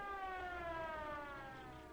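A siren on Cameron's car in Night of the Creeps holds a steady, layered tone that slowly falls in pitch over two seconds. It sounds distant and fairly faint, with no voices.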